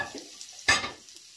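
Meatballs drop into hot oil with a sudden sharp sizzle that swells briefly and settles into a quieter crackle.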